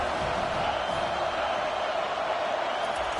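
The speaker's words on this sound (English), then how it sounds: "this crowd trying to help keep them there" A dense, steady roar comes from a packed college football stadium crowd at Neyland Stadium as Tennessee faces Florida, loud and continuous with no breaks, a broad wash of noise from thousands of fans.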